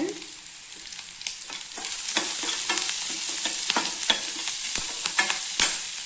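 Softened onions with curry leaves and chillies frying in a pan for ragi upma, a steady close sizzle punctuated by frequent sharp spoon scrapes and taps against the pan, with no talking.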